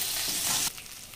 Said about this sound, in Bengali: খুব ভালো করে মাছ ভাজছে